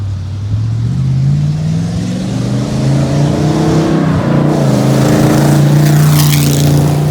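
A loud old-school hot rod engine roars steadily and revs higher, its deep rumbling tone rising and holding, with no voices.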